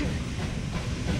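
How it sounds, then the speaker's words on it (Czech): A train in the Wobbly Life video game, a steady rumbling, hissing rail noise that holds constant and fairly loud throughout, with no distinct clacks standing out. "Vlak! Naskočím na vlak!"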